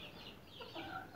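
A hen recovering from illness clucks softly in a few short, rising calls over a steady hiss of background noise, faint and alone without talk.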